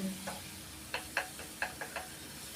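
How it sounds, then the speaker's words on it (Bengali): A spoon scrapes through dry ground spices (coriander, cumin, turmeric and chili powder) frying in a pan for fish curry. Several soft, evenly spaced stirring strokes sound over a low sizzle. "এরপর ধীরে ধীরে লাড়িয়ে লাড়িয়ে এটাকে একদম ভাজি নেবো যতক্ষণ না কাঁচা গন্ধ যাচ্ছে"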